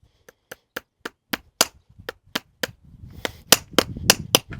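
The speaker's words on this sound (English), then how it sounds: "I'll go like that, just so he'll know the tapping sound before I go to nailing." A hammer taps on a horse's front hoof before shoeing, with a dozen sharp, evenly spaced knocks that grow slightly quicker and louder toward the end, close and alone.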